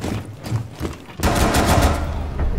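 Video game gunfire, a few scattered shots followed by a dense burst of rapid automatic fire that stays loud and close to the end.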